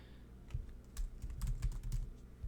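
Quick, irregular keystrokes patter on a computer keyboard close by, a soft cluster of clicks and thumps with brief pauses, no voices.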